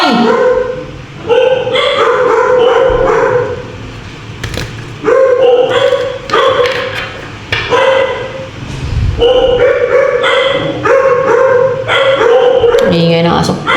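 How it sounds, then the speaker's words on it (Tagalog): A dog barks loudly and close by, in repeated bursts and short runs of yelps with brief whimpers between, continuing throughout with pauses of a second or two. "Ingay ng aso."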